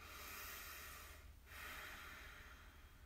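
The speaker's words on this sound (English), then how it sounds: "So take a moment to take a deep breath with me." Slow deep breath taken during a guided relaxation exercise, a soft steady airy inhale followed by a long exhale, close and quiet with no talking.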